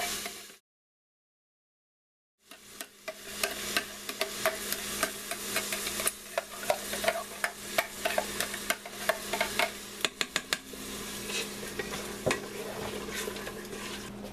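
Tomato puree is stirred into a pasta casserole in a cooking pot. After a brief silence comes a run of irregular close scrapes and clicks from the utensil over a soft, continuous sizzle.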